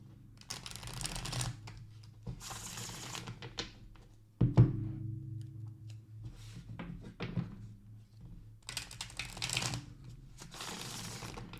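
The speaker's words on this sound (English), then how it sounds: "let's do a quick shuffle" Oracle cards shuffled in several bursts of papery riffling and sliding close up, with a dull knock of the deck being squared midway and no talking.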